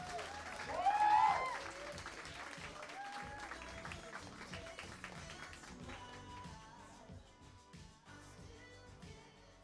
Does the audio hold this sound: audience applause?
yes